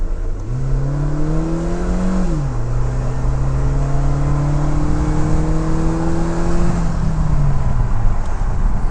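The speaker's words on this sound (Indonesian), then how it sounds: "Nah, kira-kira dia punya bunyi mesin sama tarikan seperti itu." A Suzuki Jimny (JB74) engine revs up strongly on an empty road, dips as a gear shifts, then holds a loud sustained drone while accelerating before easing off near the end.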